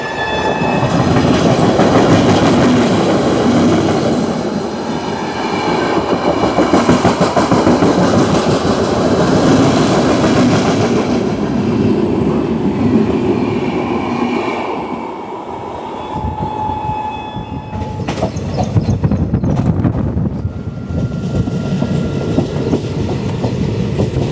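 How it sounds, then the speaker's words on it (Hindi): The Marathwada Express passing the Panvel Hazur Sahib Nanded Express on the outer approach to Parbhani Junction, with loud, continuous rail rumble and wheel clatter close by throughout. "हमारी ट्रेन की क्रॉसिंग हो रही है पनवेल हजूर साहिब नांदेड़ एक्सप्रेस के साथ"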